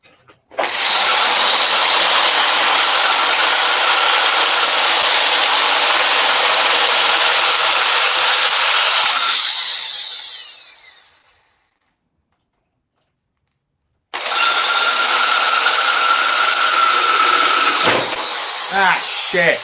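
A power drill whines loudly and steadily while building a prop hidden blade, running for several seconds, winding down to silence, then starting again for a second burst that ends in a short clatter.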